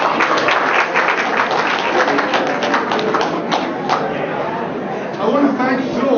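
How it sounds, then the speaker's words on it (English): Audience at a Presbyterian church farewell gathering gives a round of applause, dense continuous clapping filling the room with a few louder claps, steady and fairly loud, with some voices murmuring beneath. "A round of applause."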